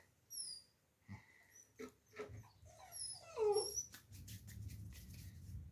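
Dogs at a Turkish village farm whimpering and making short whiny, breathy noises in quick bursts, close by and fairly quiet, with rustling in the background.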